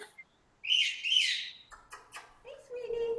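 A pet bird gives a burst of high chirps and tweets in reply to whistling, followed by short squawky calls and a sustained whistled note, fairly close and moderately loud.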